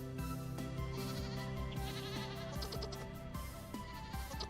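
Goats bleat in the survival video game Vintage Story, a busy overlapping chorus of calls over steady background music and game sounds.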